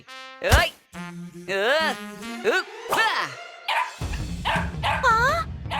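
A cartoon puppy yaps in a quick series of high, bouncy barks over a few seconds, with a character's voice speaking in between and a busy animated soundtrack underneath.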